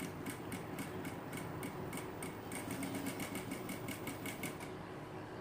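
Sewing machine running steadily, stitching fabric with green thread and a slightly lengthened stitch, its rapid mechanical ticking continuous and close throughout, with no talking.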